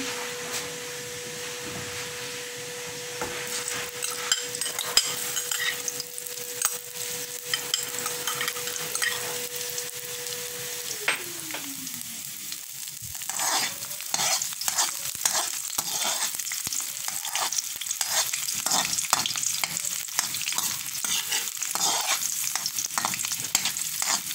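Garlic sizzles steadily in hot oil in a pan for lasagna sauce, with a dense continuous frying hiss broken by clatter and scraping from stirring, loud and close throughout.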